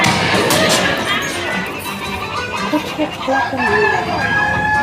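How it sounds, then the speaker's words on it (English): Hens cluck busily while a rooster crows, in an animatronic pirate ride scene with an auction, loud and close over a bustling crowd and background voices. "What be I offered for these hearty hens? Every one an egg layer."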